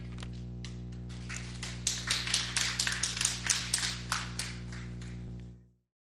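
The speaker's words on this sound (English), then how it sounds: "please give a huge round of virtual applause to welcome her" A short burst of applause welcoming a performer at a virtual fundraiser, a dense patter of overlapping claps over a steady low electrical hum, rising in the middle and then cutting off abruptly.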